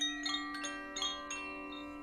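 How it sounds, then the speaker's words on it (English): Wind chimes in a sound meditation are struck about five times at irregular intervals, each strike producing bright overlapping metallic tones that shimmer and decay gently at a soft, close level. "Maybe some wind chimes."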